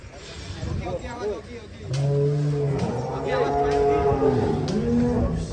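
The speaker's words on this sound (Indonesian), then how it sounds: "Ini dia Rossi, sang juara kontes sapi kontes Indonesia." Cattle low and moo amid a busy crowd at an Indonesian cattle contest, several long droning calls overlapping with chatter and background noise outdoors.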